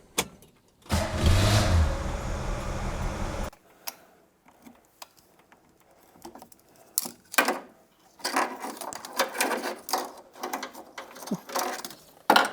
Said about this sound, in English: The engine cranked strong with no hesitation.